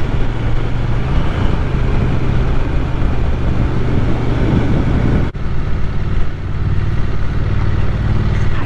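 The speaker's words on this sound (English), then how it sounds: "hoping you can hear that exhaust a bit more now we're in the built up area" Continuous loud engine and exhaust rumble of a Triumph Speed Twin 900 motorcycle while riding through a built-up area, steady throughout with wind noise mixed in and a brief dip partway.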